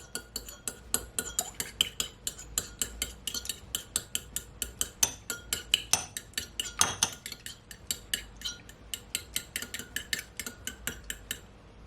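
An egg is whisked into wet ingredients in a bowl, a utensil clicking against the side in a fast, steady rhythm of sharp taps, close and clear, with no voices.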